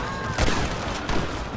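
Gunfire in the Western video game Red Dead Redemption: a few sharp shots crack out in quick succession over dense, continuous game noise, fairly loud and close.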